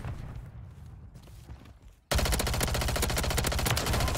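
A Striker 9 submachine gun in Modern Warfare 3 bursts into sustained rapid automatic fire that starts abruptly midway and stays loud and dense to the end, following quieter game ambience and scattered distant shots.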